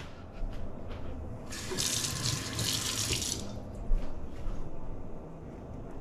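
Water runs briefly from a tap, a bright rushing burst lasting a couple of seconds amid low indoor background noise, with small clinks and handling sounds around it.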